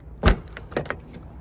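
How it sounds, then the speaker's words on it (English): The door of a 1995 Mercedes-Benz E320 cabriolet (W124) shuts with one solid, heavy thud, followed by a couple of softer latch and key clicks, heard up close with no talking. "to close it, you just stick the key in, and then it locks both sides"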